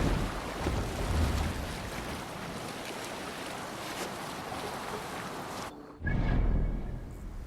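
Viking longship sailing on open water in Assassin's Creed Valhalla: steady rushing wind and waves with a brief drop near the end, then a louder surge of water.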